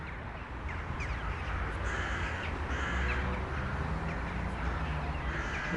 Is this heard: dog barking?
no